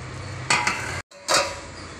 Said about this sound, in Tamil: ஒரு 5 நிமிஷம் நம்ம அதை மூடி போட்டு மூடி வச்சிடலாம்